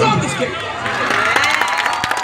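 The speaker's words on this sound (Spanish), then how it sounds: "Los aplausos." Festive carnival crowd cheering and applauding at a corso parade dance contest, a dense continuous roar of voices and clapping with whoops, close and loud throughout.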